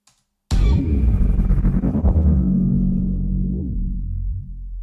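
A synthesized space noise effect bursts in after a moment of silence as a loud, deep, roaring rumble. It holds steady for several seconds with a faint throbbing texture before easing off slightly.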